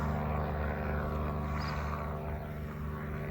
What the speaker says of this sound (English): it's a very small little airplane, kind of like a go-kart airplane